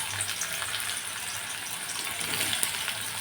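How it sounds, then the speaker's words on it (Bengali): Onions sizzling in oil over medium heat for an egg korma, a steady broadband frying hiss close by with no talk. "এগুলো আমি ভাজবো, এই পেঁয়াজগুলো আমি ভেজে নেব।"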